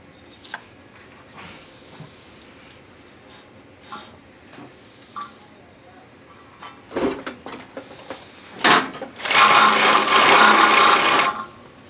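A carpet binding machine sews 1¼ inch polyester binding tape onto carpet, starting with scattered clicks and short bursts before running in a loud, continuous mechanical rattle near the end.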